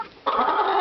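Chickens feeding on squash let out a close, loud burst of clucking that starts abruptly after a brief quiet moment and carries on without pause.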